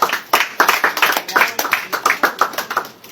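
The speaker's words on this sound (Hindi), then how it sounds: "ताली बजाइए एक बार।" A small group at a quiz competition claps, sharp distinct claps landing in a fairly steady rhythm, close and loud, about a dozen in quick succession with no talk over them.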